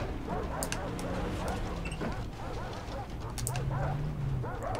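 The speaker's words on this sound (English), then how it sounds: "Stop being eaten by dogs." Dogs bark, yip and whimper during an attack in the video game Far Cry 3, repeated close bursts over game noise and a low tone, with a voice talking at points.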